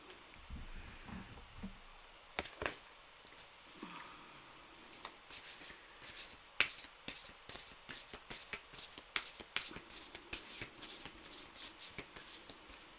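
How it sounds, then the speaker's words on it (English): A deck of cards being shuffled by hand, repeated quick riffling bursts in a steady rhythm, close and fairly quiet, with no talking. "that was my bad shuffling"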